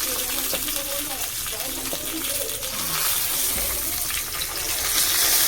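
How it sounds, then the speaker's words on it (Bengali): Continuous loud sizzling of fish frying in oil, with faint voices murmuring underneath. "ভালো করে ভেজে নিচ্ছি"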